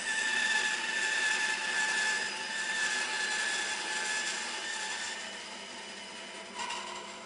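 A bandsaw rip-cuts timber fed through at steady pressure, giving a continuous close whine and hum that holds level and eases slightly toward the end, with no talking.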